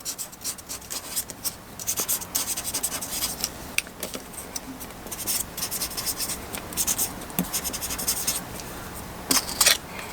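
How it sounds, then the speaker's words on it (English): Pen scratching steadily across dry bay leaves as names are written on them, a close, continuous rasping scrawl with brief pauses and small taps, no talking. "You're going to write your name and his name on separate leaves."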